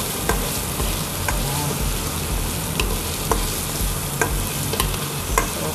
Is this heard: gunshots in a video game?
no